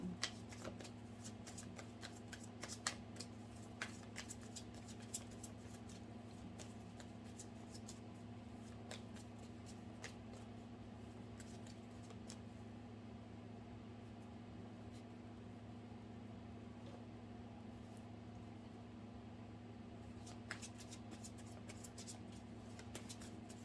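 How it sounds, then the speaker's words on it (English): Soft riffling and tapping of cards being shuffled, in scattered bursts over a steady low hum, quiet and close. "I'm going to put it back in the deck though and shuffle."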